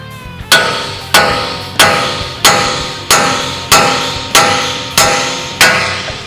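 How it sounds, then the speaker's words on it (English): Hammer striking the upper control arm of a 2016-2021 Toyota Tacoma to separate the ball joint taper: eight loud, ringing metallic blows at a steady pace, close up with no talking. "So I'm gonna smack this. Going to separate the taper from the upper control arm"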